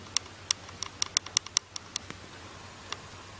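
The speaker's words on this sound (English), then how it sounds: "the clicking noise on my camera." A series of faint, sharp mechanical camera clicks in an irregular rhythm, close by in a quiet room.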